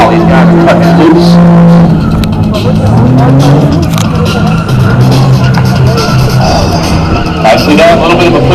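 A drift car skids around a parking-lot course, with loud, continuous engine roar and screeching tires close by, while a commentator talks over the noise.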